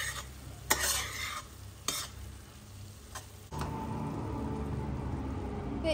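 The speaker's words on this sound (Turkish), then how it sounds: "Bir tutam kadar da maydanoz ilavesi yaptıktan sonra karıştırıyorum." A spoon stirs a filling in a pan after sweet paprika, chili flakes and parsley are added, giving soft scraping and stirring with light sizzling and a few sharp clinks against the pan, close up and without speech.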